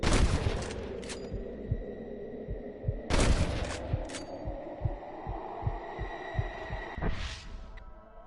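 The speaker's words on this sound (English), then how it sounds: "I can hear more gunshots." Scattered gunshot bursts in Red Dead Redemption crack through a low rumbling game soundscape, a few louder blasts standing out over a steady thudding beat.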